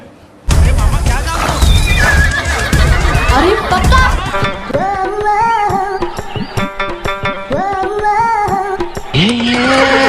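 A horse whinnies loudly in wavering, rising and falling cries, with other noise and voices around it.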